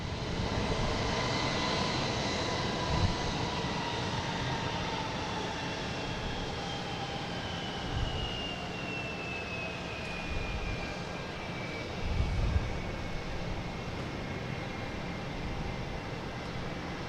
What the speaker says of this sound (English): Coming in from Seoul, Korea, Boeing 777-300